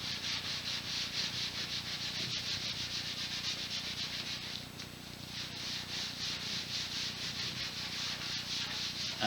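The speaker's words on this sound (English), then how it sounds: "As the stain is being absorbed by the wood, we just wipe all of the excess stain off." A lint-free cotton cloth rubs excess wood stain off a wooden surface in continuous, rhythmic back-and-forth strokes, making a close, steady scratchy swish throughout.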